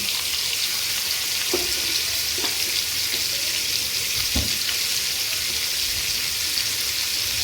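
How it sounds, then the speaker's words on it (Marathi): Pieces of vada fish from a creek sizzle steadily in hot oil, Agri-style fry, a continuous close crackle with a few sharper pops and no talk. "तेल तापलंय मंडळी चला मच्छी सोडी"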